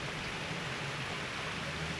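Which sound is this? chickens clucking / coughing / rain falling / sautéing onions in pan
rain falling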